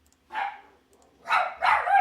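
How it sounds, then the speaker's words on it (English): A rescued female dog, a little aggressive, barks loudly and close by in three sharp bursts: one single bark, then two in quick succession. "Hold on, my dog is losing it."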